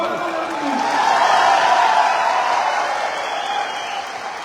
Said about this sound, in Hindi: एक बार तालियां जोरदार।